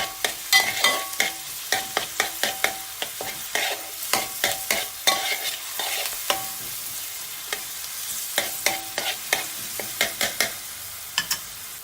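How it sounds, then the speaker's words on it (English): Ginger garlic paste being stirred into frying onions in a pan for sea bass curry, a quick run of sharp, close spoon scrapes and knocks over a light sizzle, with no talking. "Then add the ginger garlic paste to it. Mix it evenly."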